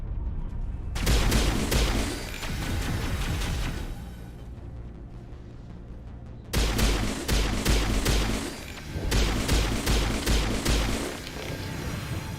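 Loud gunfire from a Mass Effect 1 Legendary Edition battle, with rapid bursts of shots in two long volleys separated by a quieter pause, and no talk.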